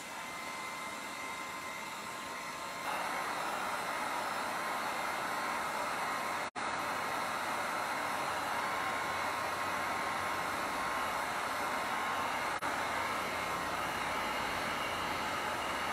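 A hairdryer or small heat gun blows over acrylic paint on a canvas, a steady, loud whooshing hum that continues throughout with a brief dropout partway.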